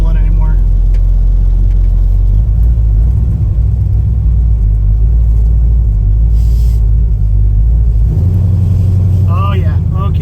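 A car engine with an Edelbrock carburetor idles after an eighth-turn adjustment of the idle mixture screws, a loud steady low rumble with a brief rev near the end, and someone talks over it.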